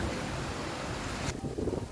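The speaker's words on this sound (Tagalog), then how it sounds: "Sa lakas ng hangin." Strong wind from Typhoon Kristine in the Philippines roars and buffets the microphone in a continuous loud rush, easing slightly near the end.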